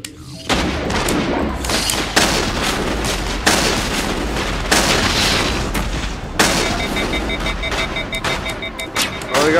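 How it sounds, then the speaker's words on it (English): Bombs going off in the Mass Effect video game: a dense run of loud, booming blasts with a continuous roar of gunfire and rumbling between them, several heavy hits spaced a second or two apart. "Oh, they got little bombs."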